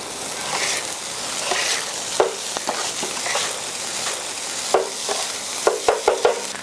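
Vegetables fry in butter in a hot pan for chicken fried rice, giving a soft steady sizzle broken by several sharp clinks and scrapes of a spatula, louder toward the end.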